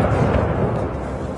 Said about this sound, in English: Ukrainians woke to explosions lighting up the dawn sky